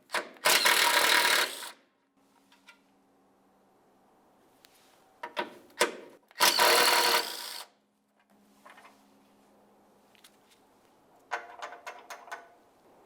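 A power tool loosens two 13mm nuts on the rear sway bar link of a 1998-2002 Lincoln Navigator: two loud rattling bursts about five seconds apart, with lighter metallic clinks and handling noises between and after them.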